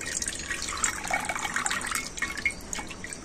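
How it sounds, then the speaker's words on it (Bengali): Water drips and trickles as blanched pumpkin leaves, lifted from hot water, drain in a kitchen. The patter is steady and close, with small splashes throughout and no talking. "তো ভালো করে জল ঝরিয়ে আমি নিয়ে নিচ্ছি।"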